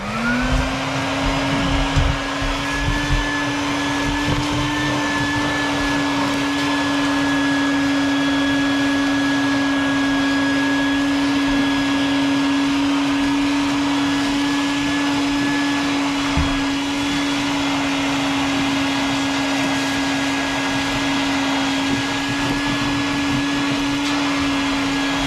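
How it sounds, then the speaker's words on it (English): A vacuum cleaner runs steadily at close range over a bare subfloor before a shower pan installation, with a constant high whine and occasional bumps and scraping as it moves; no talking. "now I'm gonna vacuum just to make sure that this subfloor is all clean"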